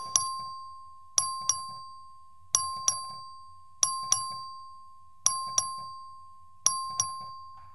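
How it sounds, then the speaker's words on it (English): An electronic voting bell rings in a state legislative chamber during a record vote on a Senate bill, sounding as repeated double chimes in an even rhythm, loud and clear with a sustained tone between strikes and no talk. "The clerk will please ring the bell."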